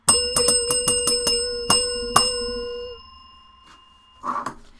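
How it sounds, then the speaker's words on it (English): A bell is rung on a tool-themed live stream, about eight bright metallic dings in a quick uneven run, with the last ring fading into quiet and a short muffled noise at the end. "I'm going to ring the bell. 3, 2, 1."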